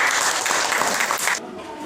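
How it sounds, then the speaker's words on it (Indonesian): A small classroom audience claps together after a student group's presentation, a dense, fairly loud patter of hands that stops abruptly near the end. "Tepuk tangan."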